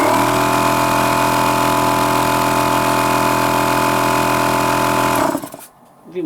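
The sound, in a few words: Einhell TC(H)-AC 190/6/8 OF oil-free air compressor running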